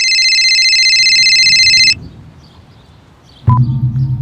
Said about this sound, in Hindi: तभी मेरा फोन बजा।